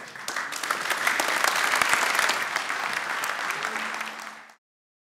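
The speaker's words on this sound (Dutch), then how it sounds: "nog één keer een applaus voor Michael van der Vaart." A television studio audience claps loudly and steadily for several seconds before the applause tapers off and cuts out.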